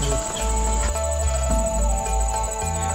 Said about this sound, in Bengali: শুধু বিভিন্ন ওই ঝিঝি পোকার পোকা পাখিদের ডাক,